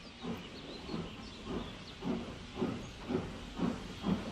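Steady rhythmic chuffing of a steam engine, regular puffs about every half second over a continuous hiss, moderately loud and close.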